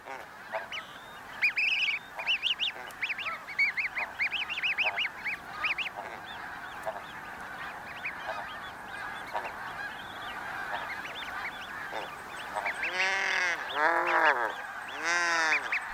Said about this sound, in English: The colony is now home to 1 million goslings.